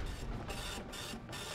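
A printer runs with a steady mechanical whir and hiss, broken by short rhythmic pauses as the paper feeds. It is fairly close and heard alone, with no talking.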